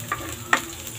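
Food frying and being stirred in hot oil in a pan for chicken chopsuey, a soft steady sizzle with two brief scrape accents from the stirring.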